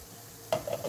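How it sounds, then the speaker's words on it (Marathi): Thalipeeth, a bottle gourd flatbread, frying in oil on an iron griddle, a faint low hiss that breaks into a brief louder sizzle and crackle midway. "थालीपीठ हे लोखंडाच्या तव्यावर केलं तर जास्त मजा येते"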